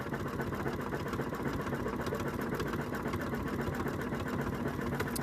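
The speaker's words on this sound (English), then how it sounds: "Almost done with this satin stitch" An embroidery sewing machine runs a long satin stitch on an in-the-hoop project, giving a steady, fast, continuous mechanical whir and rapid needle chatter at close range with no pauses throughout.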